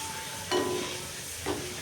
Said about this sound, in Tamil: முழு உளுந்துன்றதுனால கொஞ்சம் தெரிக்குது.